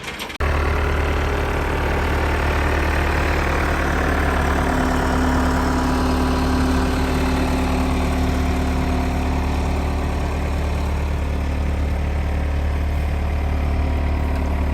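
A small 60-horsepower skid steer idling on a pecan ranch, its engine a steady, loud, close rumble that drones on without a break and covers the whole stretch.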